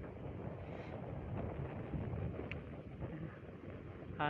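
Steady wind rumbles and buffets the microphone outdoors, a low continuous roar with no voices.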